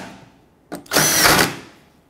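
Power drill driving the top headlight mounting screws back in on a 2009-2014 Ford F-150, a short tap followed by one close, steady whir of under a second that then fades, with no talking.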